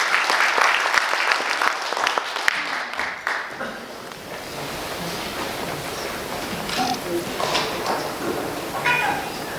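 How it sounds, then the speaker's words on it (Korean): Audience applause fills an arts award ceremony in a small theater hall, loud clapping for the first few seconds, then thinning into scattered claps and room murmur. "박수 부탁드리겠습니다"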